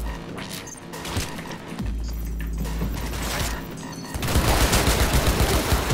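Gunshots in the futuristic shooter Cyberpunk 2077, a loud burst of rapid automatic fire with crashing impacts. It grows denser and harsher toward the end.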